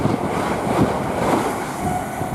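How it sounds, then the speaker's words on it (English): A pair of Class 387 Heathrow Express electric trains rumbles steadily past close by at West Ealing on the Great Western Main Line, a continuous rolling roar with a faint whine and no voices. "the next train to pass by, we've got another pair of Heathrow Express 387s."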